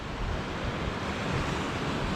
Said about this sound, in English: the noise with these waves ripping up here behind me, it's so cool